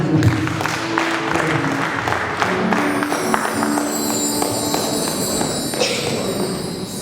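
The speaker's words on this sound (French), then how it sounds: "Est-ce qu'on peut l'encourager en acclamant?" Mourners clap steadily at the funeral of Pierrette Mushingwa Mapako, a dense, fairly close burst of applause with scattered sharper claps, later joined by faint sustained tones in the background.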